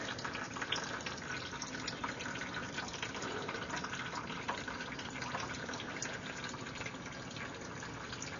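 Engine oil drains in a steady, faint trickle from a first-generation Infiniti G35 during an oil change, a continuous soft liquid pour with no talking.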